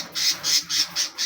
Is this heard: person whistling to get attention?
no